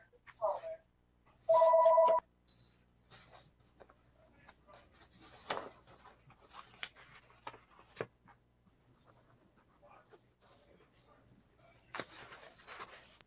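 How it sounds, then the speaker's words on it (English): A phone rings with one short, loud electronic burst near the start, followed by scattered small handling clicks and soft rustles in a quiet room. "That's my phone ringing."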